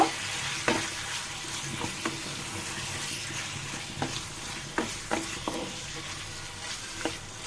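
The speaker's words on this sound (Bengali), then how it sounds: "এ পর্যায়ে আমি যে পটল আলু ভেজে রেখেছি সেটা দিয়ে দিব ভালো মতো নেড়ে দিব" Fried pointed gourd and potatoes stirred in a pan over a low, soft sizzle, with repeated scraping knocks of the spoon spaced irregularly throughout.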